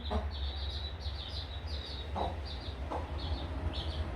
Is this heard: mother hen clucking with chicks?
yes